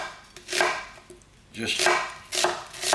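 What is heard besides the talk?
chopping onions with a knife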